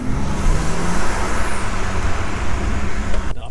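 A Porsche 911 Carrera accelerating hard, heard as a loud, steady engine roar mixed with road and wind noise from inside the cabin, holding at a constant pitch throughout.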